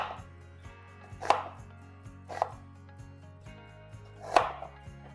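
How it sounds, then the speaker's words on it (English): A kitchen knife slices through a halved onion onto a cutting board, three distinct thunking chops spaced about a second apart over a low steady background hum. "After you cut the onion in half, when you slice them, you can go this way or you can go this way."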